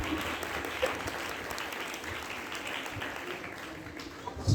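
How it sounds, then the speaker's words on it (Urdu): Congregation at a feast celebration of St. Anthony of Padua breaks into steady, dense applause from a large crowd, sustained throughout with a slight swell at the very end. "ان سب کا بھی شکریہ ادا کرتے ہیں جو ہمیشہ ہر عبادت میں بڑی سنجیدگی کے ساتھ عبادت میں حصہ لیتے ہیں، اپنی خدمات انجام دیتے ہیں، ان کے لیے بھی زوردار تالیاں"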